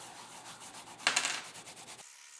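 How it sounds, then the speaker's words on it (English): A piece of carpet loaded with Simichrome polish rubs briskly over a .50 caliber brass bullet shell, a quiet steady scrubbing with a brief louder flurry midway before it stops. "I'm just going to use this piece of carpeting with some semi-chrome on it."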